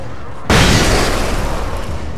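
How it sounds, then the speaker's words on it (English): A flashbang goes off in Alan Wake with a sudden loud boom. A sustained roaring wash follows and slowly fades, with no voices over it. "more flashbangs"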